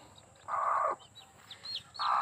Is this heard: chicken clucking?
yes